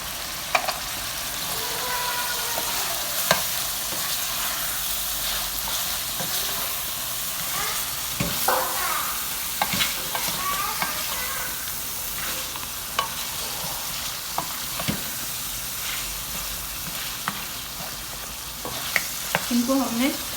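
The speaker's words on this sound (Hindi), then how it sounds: "इनको हमने 2 से 3 मिनट तक मज़ीद भूनना है मसालों के साथ" Mutton pieces sizzle and fry in a karahi with garam masala, turmeric and lemon juice, a continuous close hiss broken by the scrape and clatter of a spoon stirring the pan, with no talk.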